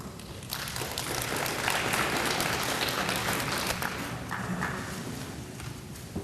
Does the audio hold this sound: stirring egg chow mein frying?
no